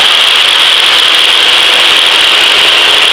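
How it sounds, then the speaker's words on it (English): Cessna 152 single-engine training aircraft under full throttle in flight, a loud, steady, unbroken engine drone with a strong broadband roar and no voices over it. "advance the throttle to full power"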